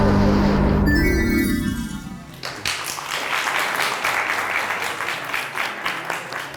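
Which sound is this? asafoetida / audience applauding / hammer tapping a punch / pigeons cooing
audience applauding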